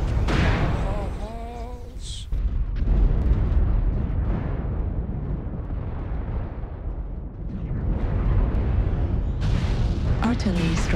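Artillery strike explosions in MechWarrior Online, a series of heavy booming blasts rumbling continuously for several seconds, with a voice talking over the start.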